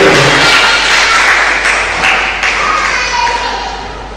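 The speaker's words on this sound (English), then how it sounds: "Please clap for her." Applause from an audience at a World Occupational Therapy Day event, a dense steady wash of clapping that starts loud and slowly fades, with a few thumps mixed in.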